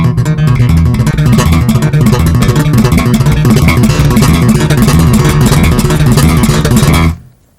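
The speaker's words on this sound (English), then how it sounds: "So you can take like a chord like this, major seventh chord," A major seventh chord picked with the fingers in a continuous rolling pattern, loud and full, ringing for several seconds before cutting off abruptly.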